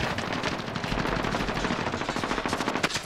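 Automatic weapon fire in Call of Duty: Modern Warfare, dense rapid bursts of gunshots rattling continuously throughout, loud and close with overlapping shots.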